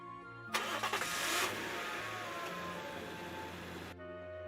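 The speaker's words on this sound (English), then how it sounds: "Starting the engine in a big rush, I slammed on the gas." A car engine starts in a visual novel game, an abrupt loud cranking that catches and settles into a steady running hum, then cuts off sharply near the end.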